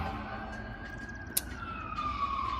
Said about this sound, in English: so you're going to hear the sirens